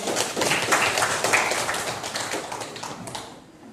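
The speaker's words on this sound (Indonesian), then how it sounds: "Tepuk tangan dulu" Classroom students clap their hands together in a brisk burst of overlapping claps, fairly close and lively, fading out toward the end with no talking over it.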